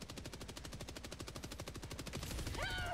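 Rapid automatic gunfire from an enemy in the video game Helldivers 2, a steady close burst of evenly spaced shots running nearly three seconds, ending with a rising whine and other game effects.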